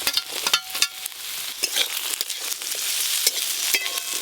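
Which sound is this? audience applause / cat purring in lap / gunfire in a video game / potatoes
potatoes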